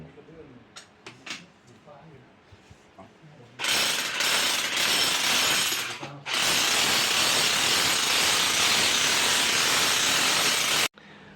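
A power drill bores loudly into a wall while searching for a leaking water pipe, running in two long, harsh bursts with a brief pause between them, after some quieter tapping and handling sounds.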